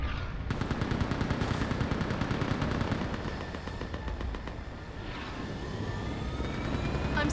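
Gunfire and a gunship in the Mass Effect 3 Leviathan mission: rapid, crackling bursts of automatic fire rattle over a continuous roaring aircraft engine drone, with sharp shots dense early and thinning later.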